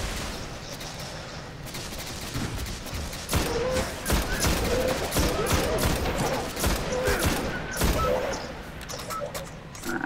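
Sustained gunfire from a weapon shooting at enemies in the game Destiny, with dense rapid cracks and thumps layered over constant combat noise, loud and close throughout.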